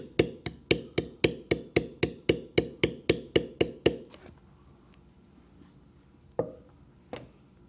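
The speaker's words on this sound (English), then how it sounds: "we will use the pointed beveler on the top of the ear" A pointed leather beveler struck with a mallet while tooling leather, a fast even run of about sixteen sharp close taps, then quiet with two more isolated knocks.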